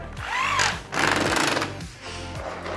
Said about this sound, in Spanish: y lo vamos atornillando cada 20 centímetros